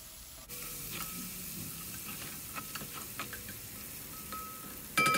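Steady sizzling of tomato and pepper paste frying in a pan, with scattered small pops and occasional scraping of a utensil stirring, close and moderately loud.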